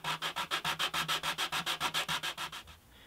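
Fine 400 grit sandpaper rubs back and forth across the wooden top of an antique parlour guitar being flattened, about sixteen quick, even scratchy strokes in a steady rhythm, close and clear, trailing off at the end.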